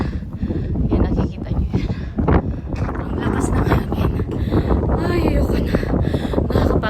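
Strong gusting wind at the main gate of Lohagad Fort in India buffets the microphone in loud, roaring bursts while people talk over it.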